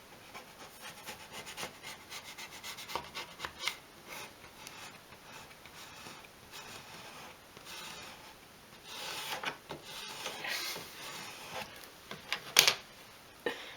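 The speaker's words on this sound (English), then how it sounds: "and then use the squeegee" A squeegee pressing down and rubbing over a small surface in a 1/12th scale shop build, soft scraping and rubbing strokes that are quiet and irregular and grow louder toward the end, close up with no talking.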